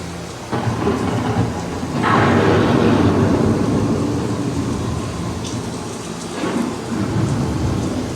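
A heavy thunderstorm with loud rolling thunder building over steady rain pattering on surfaces, with rumbles swelling and fading throughout.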